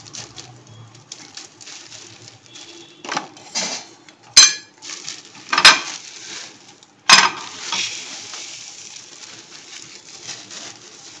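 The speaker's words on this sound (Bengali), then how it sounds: "এরকম করে সব মুড়ি আমি ছাঁকনি দিয়ে ছেঁকে রাখছি।" Puffed rice is shaken through a metal strainer in a kitchen, rustling pattering bursts with a few sharp metallic knocks and clinks, close and intermittent over a quiet background.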